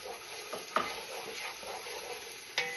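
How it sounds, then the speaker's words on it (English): Diced onion and minced garlic sautéing in a pot give a soft, quiet sizzle with a few clinks and scrapes of a stirring utensil against the pan, close by, no talking. "To my onion, I'm gonna add in 2 cloves of minced garlic. And we're just gonna saute that until you can start to smell the garlic"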